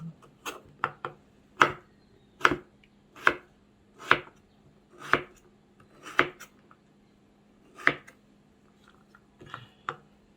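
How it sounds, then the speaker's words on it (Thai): A knife dices mango against a cutting board in sharp, evenly spaced strokes, about a dozen taps with brief pauses, close and fairly quiet. "หั่นมะม่วงให้เป็นเต๋านะคะ"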